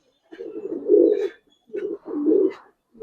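A Giribaz pigeon coos in a few close, throaty bursts separated by short pauses, with no voices in between.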